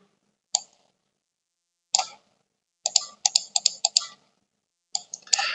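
Sharp computer mouse clicks while working in the Scratch programming environment, single clicks at first, then a quick run of several, then a final pair, close and dry.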